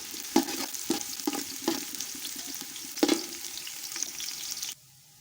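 Roughly chopped onions sizzle and fry steadily in hot ghee in a pan for a matar pulao, with intermittent stirring scrapes over the constant hiss before it cuts off abruptly near the end.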